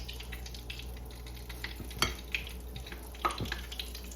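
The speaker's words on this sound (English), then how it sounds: "My grease is over there popping, so be careful." Hot grease sizzles quietly in a pan of frying chicken legs, with a few sharp pops and light clinks of utensils scattered through the frying.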